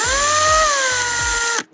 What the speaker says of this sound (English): just an Allen key on the end of a drill